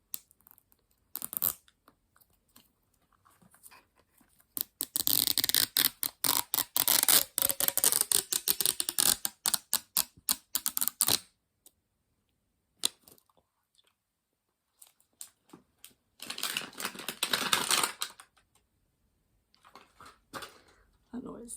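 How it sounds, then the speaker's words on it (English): Zipper being pulled on a toy doll, a close, rough ratcheting rasp in several long bursts separated by pauses, with a few short clicks between. "Can we get a satisfactory zipper pull?"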